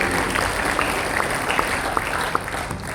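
A church congregation applauding during a Christmas sermon, a steady wash of clapping with a few sharper claps standing out, moderately distant.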